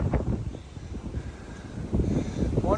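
Gusty wind buffets a microphone on a mountain summit, Cheoah Bald. The low, uneven roar comes in bursts with no speech.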